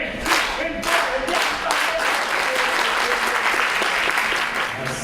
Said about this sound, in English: let's just clap with me